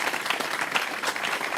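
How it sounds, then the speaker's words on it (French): A TV cooking show studio audience gives chef Claudie Aubriot a brief round of applause, a dense wash of clapping that stays steady and moderately loud. "C'est Claudie Aubriot que l'on applaudit bien fort."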